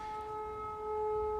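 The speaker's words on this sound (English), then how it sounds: "the emergency sirens in the background there." A steady siren wail with sustained tones holds over low rumbling street noise, swelling slightly louder toward the end.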